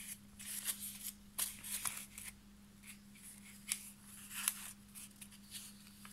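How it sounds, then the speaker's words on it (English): Paper being folded into three equal parts gives soft, close crinkles and sharp creasing rustles in irregular bursts over a faint steady hum. "Fold it into three equal parts."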